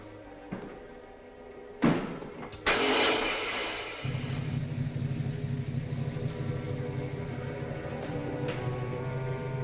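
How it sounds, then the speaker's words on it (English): Car motor in a 1946 film scene: a few sharp bangs, then the engine turns over around the midpoint and settles into a steady, close idling rumble that runs to the end. "Start the motor."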